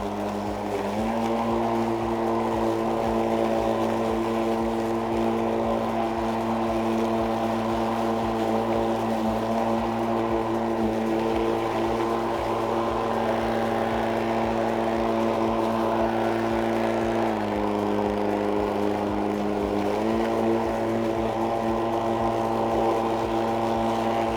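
Kress 40V cordless electric mower cutting a lawn, a steady close motor hum with a stable tone that dips briefly in pitch under load, continuous and without speech.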